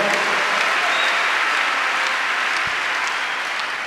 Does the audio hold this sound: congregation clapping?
yes